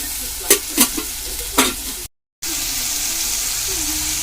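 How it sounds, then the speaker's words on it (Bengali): Banana flower and prawns cook in a pan with a little water, marked by a few sharp scraping stirs and then a steady, close sizzle after a brief dropout. "এবার আমি কিছুক্ষণ কষাবো, অল্প একটু জল দিয়ে কষাবো জিনিসটা"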